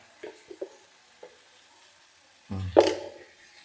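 Chili powder hits hot oil in a pan with a short, sudden sizzle that swells and then fades within about a second, after a few faint taps.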